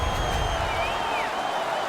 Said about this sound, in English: You can hear the crowd. They knew who won that fight.